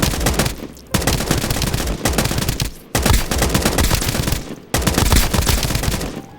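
Heavy machine gun fire in the video game Escape from Duckov, loud close bursts of rapid shots separated by brief pauses, four sustained volleys in a row.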